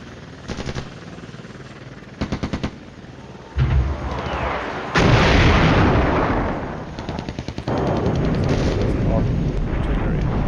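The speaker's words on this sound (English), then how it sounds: "Artillery. They have artillery too." Artillery and gunfire in the Flashpoint Campaigns: Cold War wargame, with short bursts of rapid machine-gun rattle followed by loud booming blasts and sustained rumbling explosions, close and heavy.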